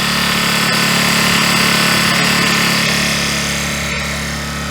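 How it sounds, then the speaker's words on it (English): A Harbor Freight Predator 1400 inverter generator runs close by with a loud, steady mechanical drone and hum that holds even throughout, easing off only slightly near the end. "And they say this generator is quiet, and it sure is."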